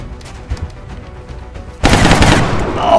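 Sustained burst of rapid automatic gunfire from a firefight in the strategy video game XCOM Long War, loud and dense, rattling continuously for over a second after a quieter stretch of ambient game sound.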